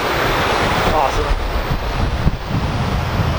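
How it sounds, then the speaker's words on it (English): Horses wading across a flowing river in the mountains of north-east Kyrgyzstan, near Jyrgalan: steady rushing water and splashing mixed with heavy wind buffeting the microphone, with a rider's voice breaking through. "Just heading over a river right now."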